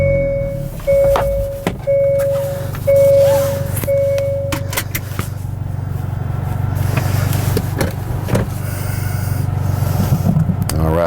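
Repeated electronic warning chimes sound inside a 2019 Hyundai Veloster N before its engine is push-button started and settles into a steady low idle, with some clicks from the cabin.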